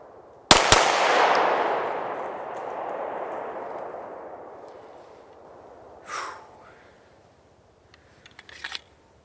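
A Glock-style handgun whose striker drops on trigger reset bump-fires two shots in a rapid, loud double crack, followed by a long fading echo and a few faint handling noises.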